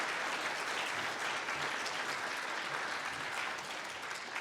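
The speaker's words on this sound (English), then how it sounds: "Let's give him a round of applause." Sustained applause from a conference audience following a keynote address by the Mayor of the West Midlands, a dense, steady wash of many hands clapping evenly throughout at moderate level, with no voices.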